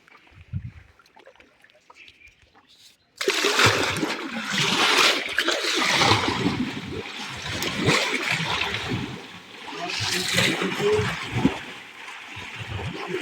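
Water churned and splashed by hand in a biofloc fish tank holding stored fish, a broad close sloshing wash that starts abruptly after a few quiet seconds and continues with surging swells and splatters.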